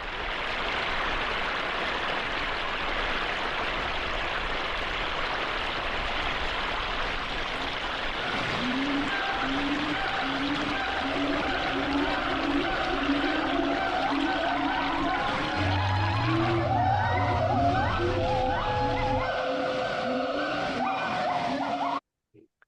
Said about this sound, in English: I can ask for a waterfall in Thailand